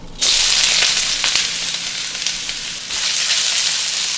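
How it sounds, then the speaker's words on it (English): Onions hit hot oil in a wok and burst into a loud, bright, hissing sizzle that starts abruptly and keeps crackling steadily, swelling again near the end. "I gotta get the onions going in the wok"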